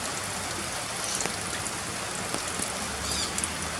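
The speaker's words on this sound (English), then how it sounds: "The rain is really pouring in there." Heavy rain pouring down steadily, a dense continuous hiss of drops spattering on surfaces with no gaps or voices.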